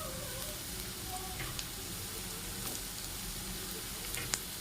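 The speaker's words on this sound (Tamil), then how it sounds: "ஏன்னா இதில் பீன்ஸு கேரட்டும் வதங்கணும்" Onion, green beans and carrot sautéing in a pan give a soft, steady sizzle with faint crackles and a few light clinks, fairly quiet and even throughout, with no talking.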